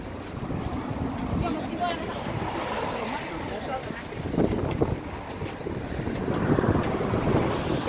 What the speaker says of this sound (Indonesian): Tapi lumayan ada angin.